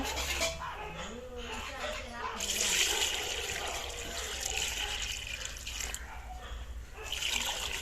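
Water splashes and trickles into a mutton lungs chilli mix in a home kitchen, a continuous pouring sound beneath a person talking.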